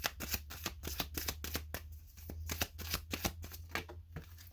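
Tarot cards being shuffled up close, with a rapid series of crisp riffling slaps and flicks in an uneven rhythm, fairly quiet, and no talking.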